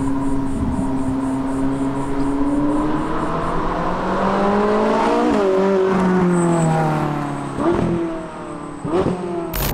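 A Ferrari 458 Italia's V8 engine revs hard while driving, climbing through rising high-pitched wails, dropping between gear changes and surging again, loud and close with no talk.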